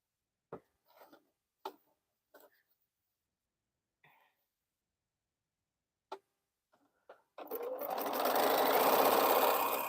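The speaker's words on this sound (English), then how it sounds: "we want to make sure we backstitch at the bottom" A sewing machine stitching T-shirt quilt pieces starts up near the end and runs in a fast, steady whirring chatter, loud and close. Before it come a few isolated clicks and small handling noises over quiet.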